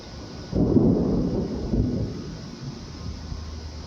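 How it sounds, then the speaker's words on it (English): Thunder from a thunderstorm over San Antonio, a fairly distant low rumble that breaks in suddenly, rolls for a couple of seconds and then fades into a faint background murmur. "we got some lightning in this storm now"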